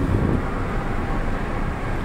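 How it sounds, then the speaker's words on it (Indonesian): Strong wind buffeting the open deck of the passenger ship KM Kelud at sea in rain, a loud continuous broadband roar with rumbling microphone wind noise and no speech. "di atas ini kencang sekali angin."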